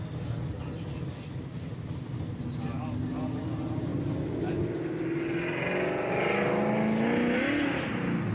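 A drag race car launching down lane 1 at a street drag event, its engine rising into a loud sustained roar under crowd noise and ongoing talk, building steadily over about eight seconds.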